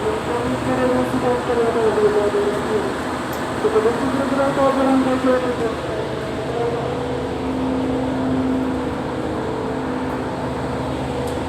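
A green Adi Soemarmo airport train in Indonesia rumbles past nearby with a steady low roar and rising, shifting engine tones, continuous throughout.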